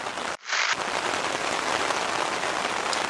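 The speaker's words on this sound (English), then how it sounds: "Rain's definitely not slowing down like it was supposed to." Heavy rain pours down steadily in a dense, continuous hiss, with a brief muffled dip near the start, and no voices over it.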